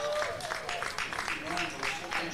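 Crowd at a high school baseball game between Plainfield and Martinsville applauds after a freshman is tagged out at third, scattered clapping under a commentator talking.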